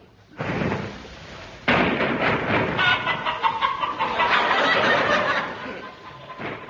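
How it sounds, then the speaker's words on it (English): Chickens cluck and squawk in a busy, overlapping chorus that starts abruptly and grows louder, with sharp cackles near the end. "The sound of chickens has specially been added for people living in rural districts."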